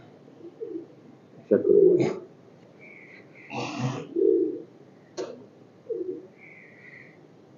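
Pigeons of a breeder pair brought down from a net enclosure give soft low cooing calls in short bursts, with a few brief higher chirps between them and a voice speaking briefly.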